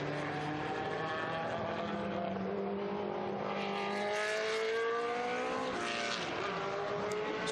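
A historic Chevron race car, a B16 at a classic circuit race meeting, roars past on track, its engine note rising and sweeping through gear changes, loud and sustained before fading slightly.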